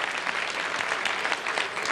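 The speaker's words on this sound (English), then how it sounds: "Let's have a round of applause." Studio audience at a 1988 Canadian muscular dystrophy telethon breaks into brisk, continuous applause, a full even wash of clapping without pause.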